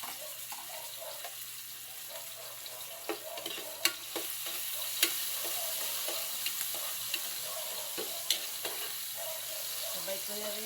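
Garlic and tomato sizzling in a frying pan, a steady soft crackle with occasional clinks of a utensil stirring, fairly quiet and close.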